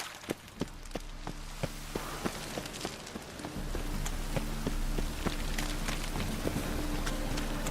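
Rain in The Witcher 3 video game patters on surfaces amid regular crisp ticks like footsteps, with a low hum growing louder halfway through.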